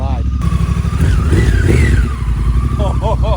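A Honda Africa Twin motorcycle fitted with a BT Moto tuned exhaust idles loud and close, its engine note rising and falling through a few revs, while someone speaks excitedly over it.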